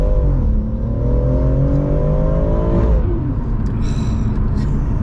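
A BMW M140i hatchback tuned to 580 bhp pulls hard on back roads, its engine note climbing steadily in pitch under load, then dropping sharply as it lifts off, followed by a lower rumbling cruise.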